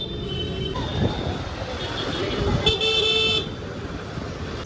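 A crowded street outside shops: a continuous roar of passing vehicles and engines, with a clear car horn toot sounding briefly near the middle, close and fairly loud throughout.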